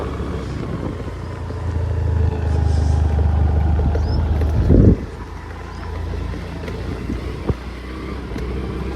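A Honda Activa scooter is ridden along a road, giving a steady close engine drone and wind rush. The drone swells into a sharp bump near the middle, then continues more quietly with a single knock.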